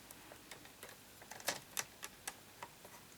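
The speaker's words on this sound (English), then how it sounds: "so just score as far as your cut line and then come and score from your cut line down there as well" A scoring tool pressed along a cut line on card stock, giving a run of light, uneven ticks and clicks, close and quiet, with a few sharper taps partway through and no talking.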